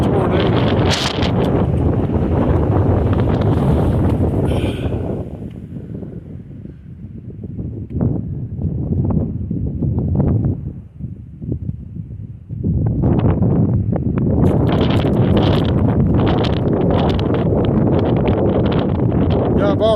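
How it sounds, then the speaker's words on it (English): Hard, cold, swirling wind buffets the microphone on the rim of Capulin Volcano's crater, roaring loudly in long gusts that ease briefly mid-way before surging back strong; no speech heard. "It's hard to talk, the wind's blowing real hard on me."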